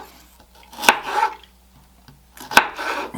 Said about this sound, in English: We'll just cut them up.